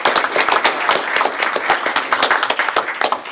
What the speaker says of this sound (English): I think we all should give Trang a big hand of applause